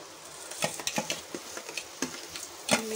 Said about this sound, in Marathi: आता त्यामध्ये धुतलेला तांदूळ त्याच्यामध्ये टाकूया